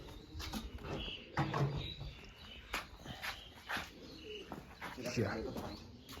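Soft pigeon cooing and occasional chirps amid nearby voices and scattered knocks and thumps, fairly quiet overall.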